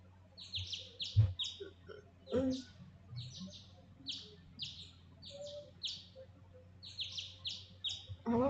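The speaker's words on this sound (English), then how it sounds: "I woke the next morning to the sound of birds chirping." Birds chirp repeatedly in a morning scene from the video game Hakuouki Kyoto Winds, with bright tweets in short bursts over a low background hum and a few soft thuds.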